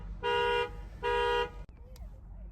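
A car alarm sounds outside with two loud, sustained horn-like blasts separated by a short gap, followed by quieter indoor noises.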